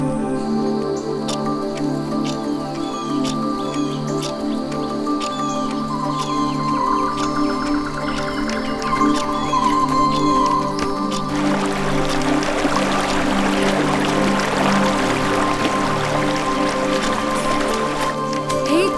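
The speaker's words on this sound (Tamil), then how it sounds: "தண்ணி சத்தம் கேக்குது." Water flows and trickles in a forest, a steady liquid wash with dripping and splashing textures that grow denser and brighter midway through.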